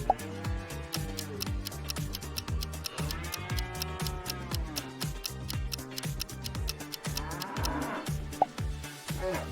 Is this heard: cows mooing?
yes